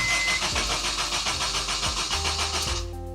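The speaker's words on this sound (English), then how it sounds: "It's a good start. It's cranking over." A supercharged Honda Civic Type R with a new starter motor cranks over in steady, rapid pulses for nearly three seconds, then catches and settles into a running engine tone, loud and close.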